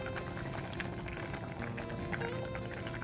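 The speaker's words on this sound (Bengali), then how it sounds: "ঝোল ফুটে গেছে, এখন ভেজে রাখা ডিমগুলো দিয়ে দেবো আস্তে আস্তে" Egg curry gravy boiling in a pan, a dense, continuous close bubbling and sputtering that stays even and fairly loud for the whole stretch, with no talking.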